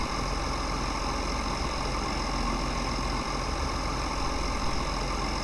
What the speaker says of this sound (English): Looks like a very slow tractor and really bouncy.